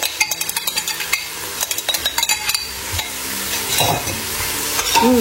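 Lamb curry with garlic and ginger stirred in a pan for a dish of curry d'agneau, a spoon scraping in quick irregular strokes over a steady close sizzle, with a brief clink of cookware near the end.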